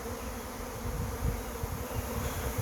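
A honeybee swarm fills the open air with a dense, continuous buzzing drone, close and steady with no voices.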